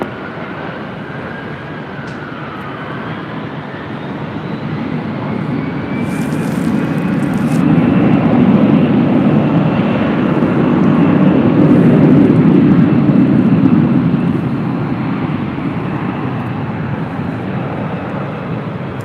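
An airliner taking off from runway 24 left at LAX, heard from a distance as a broad jet engine roar that swells to a loud peak midway, then slowly fades.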